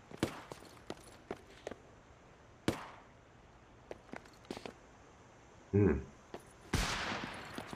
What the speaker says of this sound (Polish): Coraz bliżej te strzały.